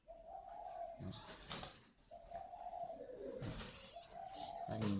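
Young spotted doves at a bird breeder's facility give repeated soft cooing calls, three sustained low coos spaced about two seconds apart, fairly faint, with no talk over them.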